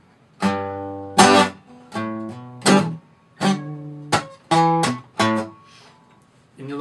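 Acoustic guitar slowly picking the bass riff, with separate plucked notes and short chords ringing out one by one, close and clear, with gaps between phrases.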